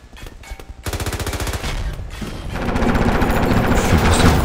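Loud, close rapid-fire gunfire in the game Armor Alley, with short stuttering bursts that build into a long sustained rattle and no talking.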